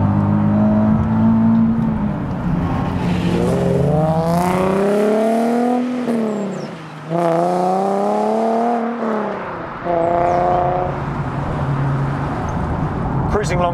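A Nissan 370Z sports car with an aftermarket exhaust and downpipe revs hard, its engine note climbing and dropping through repeated loud sweeps, close and continuous throughout.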